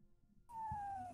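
A cat gives a single faint, drawn-out meow with a slowly falling pitch, quiet and somewhat distant, heard alone without talk.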